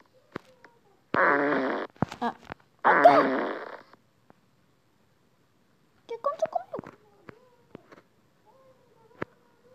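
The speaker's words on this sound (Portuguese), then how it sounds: "Eu não quero mais ouvir aquele barulho de peido." Two loud, buzzing fart sound effects sound in a video game, each lasting about a second, followed later by softer sputtering bursts and scattered clicks, with quiet gaps between.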